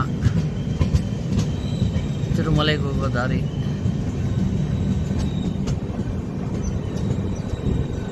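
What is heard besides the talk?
train moving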